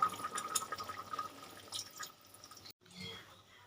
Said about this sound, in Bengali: এবার এরপরে আমি দেব অল্প পরিমাণে জল